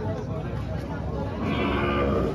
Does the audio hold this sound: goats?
yes